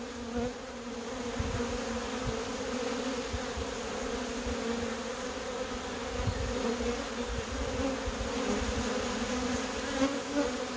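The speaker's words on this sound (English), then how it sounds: "Not sure how well the audio on my camera picks up the hum of the bees" Honey bees drone in a steady, dense hum right beside a hive in Portland, Oregon, with many drones about; the buzzing stays close and even throughout, with no talking.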